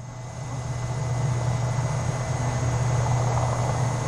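A NASA Boeing 747 carrying the Space Shuttle on landing approach gives a loud, steady engine roar with a low droning hum that swells slightly and holds for several seconds, with no talk.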